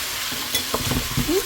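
Rice frying and being stirred in a pot before water goes in, close up: a steady sizzle under a few quick scraping stirs of a spoon against the pot.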